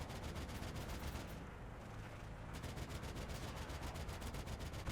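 Rapid automatic gunfire in Modern Warfare 2, shooting down killstreaks, with dense bursts of repeated shots crackling steadily across the whole stretch and only a brief lull partway through.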